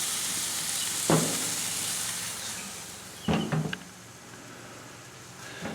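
A pork steak cooking on a grill under the hood gives a low, constant sizzle, with a few sharp metallic clanks from the grill or a utensil and no one talking.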